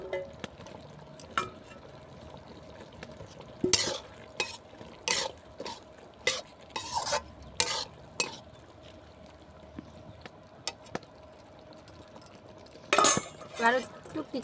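Fried soybean chunks tossed into a pan for a village-style soya bean sabji, heard as a run of scraping, clinking strokes of a spatula against metal over a faint low sizzle, fairly quiet with no talk.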